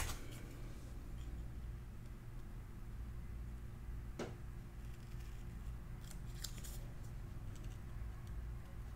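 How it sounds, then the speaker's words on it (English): Scissors make one quick cut through paper while a tag album is being crafted, a single faint snip in a quiet room, followed by a few small ticks. "I'm going to cut this one"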